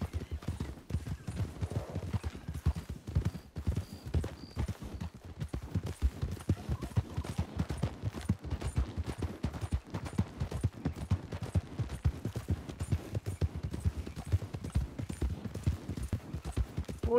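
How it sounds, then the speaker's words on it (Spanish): A horse gallops in the video game Red Dead Redemption II, its hooves pounding in a fast, steady, continuous rhythm at close range, loud and unbroken with a faint voice now and then. "Lo siento, pero es que aquí se galopa"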